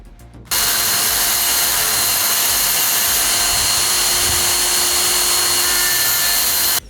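A Makita GD0601 die grinder starts up and runs under load while cutting, giving a loud, steady, high-pitched whine that holds evenly for several seconds, then stops.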